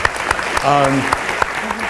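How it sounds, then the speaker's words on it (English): Audience applause at a spring colloquium for Emily, honored for her foundation's work with Connecticut children: a short, steady wash of clapping with a few sharper claps and a voice briefly rising over it. "let's give Emily a round of applause"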